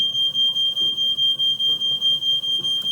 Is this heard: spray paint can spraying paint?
no